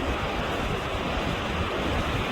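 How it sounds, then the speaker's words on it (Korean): Large ocean waves crash against the Jeju coastline in a continuous, loud, close roar of surf, with heavy wind buffeting the microphone and no voices. "파도 엄청 큰거 봐. 어제보다 훨씬 커."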